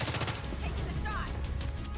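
Gunshots in The Division 2, a fast volley of loud, close automatic fire running through the whole moment, with a voice briefly heard beneath it.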